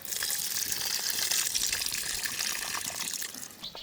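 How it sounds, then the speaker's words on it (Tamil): Tamarind water pours steadily into a cooking pot while Mysore bisi bele bath is being prepared, a continuous close gushing splash that runs throughout without speech. "இப்போ புளி தண்ணியை சேர்த்து ஒரே ஒரு கொதியை விட்டு"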